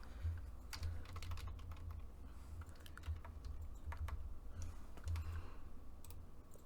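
Soft, steady typing on a computer keyboard, a run of quick close clicks with brief pauses, over a faint background hum and no talking.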